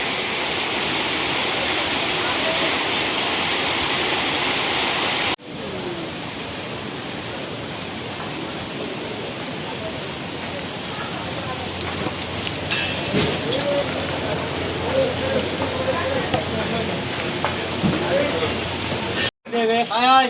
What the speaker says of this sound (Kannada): ಮಳೆ ಇದೆ ಇಲ್ಲಿ.